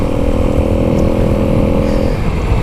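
A Kawasaki KLX300 motorcycle rides across open desert, its single-cylinder engine giving a loud, steady droning buzz close by that eases off near the end.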